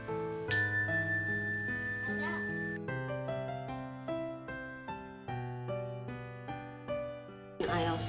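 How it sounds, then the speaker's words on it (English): Resonant chime tones ring out and overlap, several struck in sequence with long sustaining decay, clear and fairly close. "I use the chime as one of the strategies for mindful breathing"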